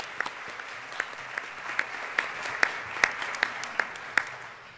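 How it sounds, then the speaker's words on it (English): A round of applause from the audience at a literacy research association award ceremony: steady, dense clapping with a few sharper claps standing out, moderately loud and continuous for about five seconds. "Could we have a round of applause for them?"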